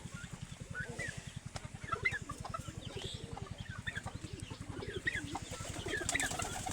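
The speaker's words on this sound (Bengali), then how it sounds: "খামারে আমার দেশি মুরগিতে ডিম পাড়া শুরু করছে।" Native laying hens on a farm that also keeps pigeons and quail cluck in scattered bursts over a steady low rhythmic throb, moderately close.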